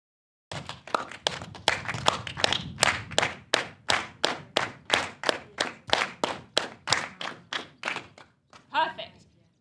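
Hand clapping in a group rhythm exercise at an arts festival session: about twenty sharp, evenly spaced claps in a steady beat, close and loud, with brief murmuring at the end.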